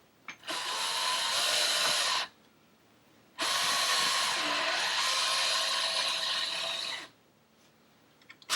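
A power drill drives screws while a deadbolt is installed, in two long whirring runs of about two and four seconds. They are close and steady, separated by a quiet pause, with small mechanical clicks at the ends.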